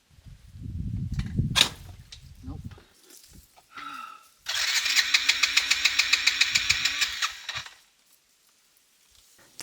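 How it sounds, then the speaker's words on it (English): A motorcycle on a mountain road in Vietnam, with a faulty kickstart, is cranked by its electric starter: a loud rapid whirring, clicking burst lasting a few seconds, preceded by scattered handling noises and followed by near silence. "The kickstart was not working properly and I didn't want to drain the battery by cranking the starter too many times."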